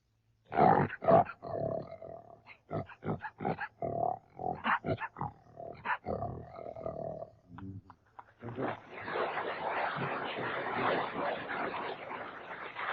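A performer on a 1939 amateur radio broadcast imitates a lion's roar by voice, a string of short growling bursts followed by a long sustained roaring sound, loud and close, with brief talk in between.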